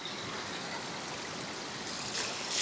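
Cold mountain spring water in Ingushetia flows and splashes in a steady, close rush that brightens slightly toward the end, with no voices.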